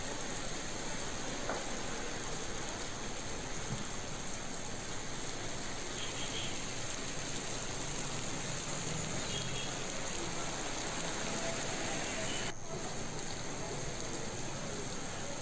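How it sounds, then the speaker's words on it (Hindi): Steady rain falls in Ramban along the Srinagar–Jammu national highway in Jammu and Kashmir, a continuous, even hiss of drops with no voices, fairly faint throughout. "रामबन बालेहाल में इस वक्त बारिशें भी हो रही हैं"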